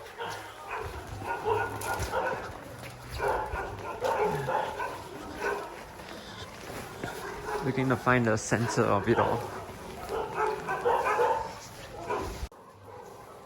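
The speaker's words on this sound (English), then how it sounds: "there's a lot of dogs kind of like just barking around" Dogs bark repeatedly on a cold street in Namche Bazaar in Nepal, a few yaps and barks at medium distance, heard under and between people talking.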